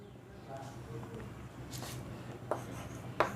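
Coordinate geometry is written on a board in a few short, scratchy strokes, quiet and close, while a voice talks underneath.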